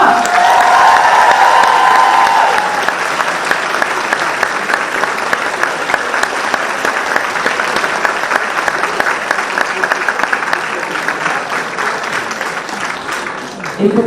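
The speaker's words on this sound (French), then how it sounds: "on les applaudit encore bien fort" Audience applause with some cheering fills a hall after a group cosplay contest performance at a Japan convention, loud and dense at first, then settling into steady clapping that tapers toward the end.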